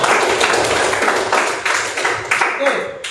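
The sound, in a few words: classroom students clapping hands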